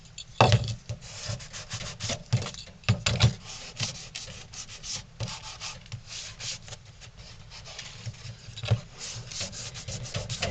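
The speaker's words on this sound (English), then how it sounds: "take a damp cloth and wipe it off." A damp cloth rubs over a lightly sanded wooden ventriloquist dummy figure, close-up in uneven strokes with scattered bumps and knocks, no voices.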